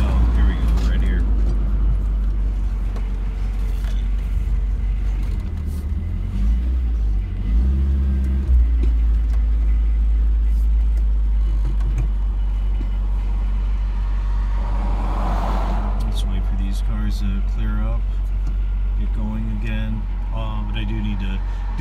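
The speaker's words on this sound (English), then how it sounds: "I'll get over here to one of the turns where I'll make a quick U-turn so you can hear that as well" A 1987 Toyota cargo van drives and swings through a quick U-turn, its engine a steady low rumble that swells and eases as it turns, with someone talking over it.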